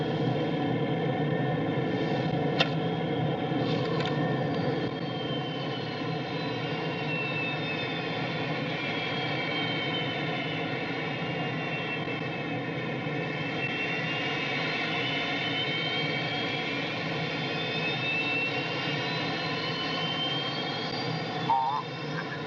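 Eagle spacecraft engines from the science-fiction series Space: 1999 fire in a steady, loud, droning roar that holds evenly for over twenty seconds, with a slight echoing sheen.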